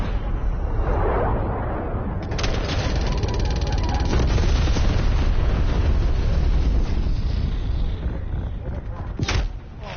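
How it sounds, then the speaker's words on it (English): Napalm strike explosions in a PS4 shooter, a sustained, loud, rumbling barrage of blasts with crackling bursts layered over it and a sharp hit near the end, with voices talking faintly beneath. "Napalm strike inbound."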